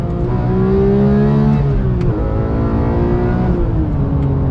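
A Porsche 911 GT3 Touring's engine revs hard, its loud, close howl climbing in pitch, briefly dropping at a gear change, then rising again steadily.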